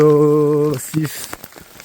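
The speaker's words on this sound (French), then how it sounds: "Là il grêle." Hail striking the ground along a mountain hiking trail in the Écrins range, coming in as a short scattered patter of sharp taps right after a voice briefly sounds close by.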